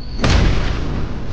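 A close-range blast in a fantasy action drama: a sudden heavy boom with a deep thud that lingers in a rumbling tail for about a second.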